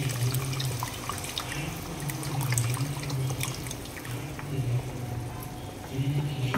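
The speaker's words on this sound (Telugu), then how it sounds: "చింతపండు పులుసు వేస్తున్నానండి." Tamarind water pours into a cooking pan, a soft, continuous liquid trickle and splash at moderate distance over a low background hum.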